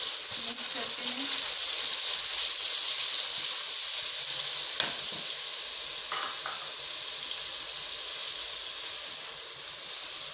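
Two medium ground onions frying in cooking oil in a kadhai, producing a steady, faint sizzling hiss with a few soft stirring clinks, heard alone.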